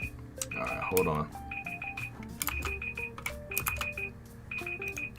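A loud kitchen timer alarm goes off, sounding repeated bursts of shrill electronic beeping tones in an uneven, melodic pattern over several seconds.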